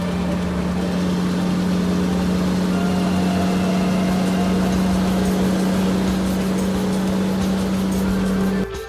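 A cartoon motorbike engine runs with a steady, even droning hum, held at a constant pitch and loudness before cutting off abruptly at the end.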